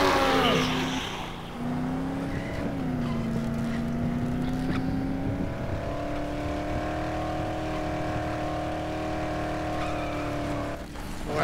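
A car engine in the zombie game Dead Island drones steadily and revs as the vehicle runs over zombies, the tone climbing and holding, loud and up close.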